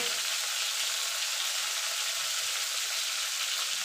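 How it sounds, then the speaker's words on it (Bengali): Kashmiri chili powder hits hot oil in a pan while making a Bengali tilapia curry with eggplant, giving a steady, dense hiss of frying that runs unbroken and fairly loud, close by, with no talking. "তেলে দিয়ে দেবো কাশ্মীরি লঙ্কার গুঁড়ো রঙের জন্য"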